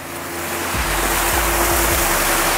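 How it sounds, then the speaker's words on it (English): Water overflows an infinity edge into a trough that feeds a rock waterfall beside a modern rock pool, a loud, steady rushing splash with a low churning rumble underneath. "the water overflows, falls into the trough, and feeds the rock waterfall"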